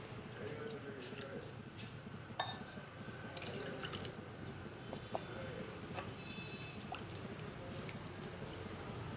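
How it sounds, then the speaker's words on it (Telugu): A glass of water is poured into a pan of coated fish pieces, making a faint, continuous splashing trickle with a few small knocks, quiet and steady throughout. "ఇప్పుడు 1 గ్లాసుడు నీళ్లు పోసుకోవాలి."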